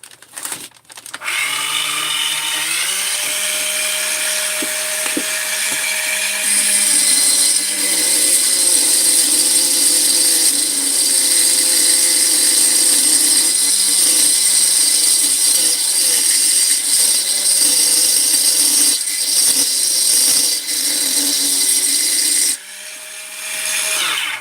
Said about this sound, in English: Just use a carbide round burr. You go in here, you basically open it up as much as you can.